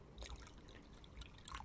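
Water poured into a measuring container: a faint, steady trickle with scattered soft drips, quiet and close, no talking.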